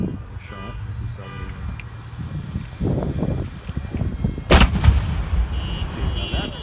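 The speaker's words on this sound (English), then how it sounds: "the only black powder 21-gun salute left in Canada" A single booming shot from an old refurbished Civil War black powder cannon, part of a 21-gun salute at a Remembrance Day ceremony in Canada, cracks out midway, sharp and loud, over steady outdoor crowd noise.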